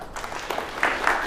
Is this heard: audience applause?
yes